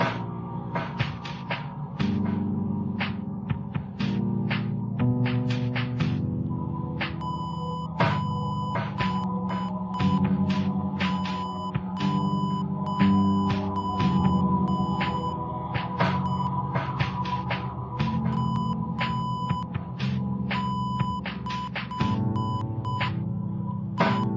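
Rapid electronic beeps pulse in irregular bursts like Morse code over a steady synthetic tone and low game music in the Roblox game Identity Fraud, continuing throughout.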